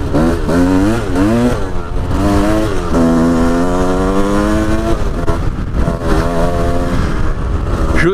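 A Kawasaki KDX enduro motorcycle ridden at night, its two-stroke engine loud and close, revving up and down through rising whines as the rider shifts and accelerates continuously.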